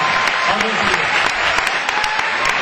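Audience at an Urdu poetry recital applauding loudly, a dense, sustained burst of clapping with sharp individual claps standing out, a voice briefly audible underneath.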